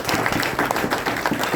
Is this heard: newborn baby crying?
no